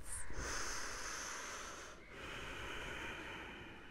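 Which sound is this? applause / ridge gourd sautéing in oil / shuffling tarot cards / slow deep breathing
slow deep breathing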